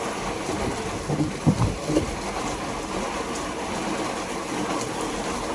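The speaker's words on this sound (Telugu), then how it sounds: "వాన పెరుగుతుంది తొందరగా" Heavy rain pouring in Vinukonda, a dense steady roar of drops with a few louder low rumbling bursts early on, continuous and close with no speech.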